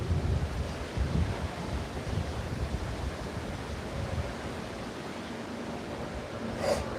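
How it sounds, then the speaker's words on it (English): Gusty wind buffets the microphone on a street in Camberwell during an outdoor walk, a continuous rough roar that rises and falls without speech. "Oh, it's a bit windy down here."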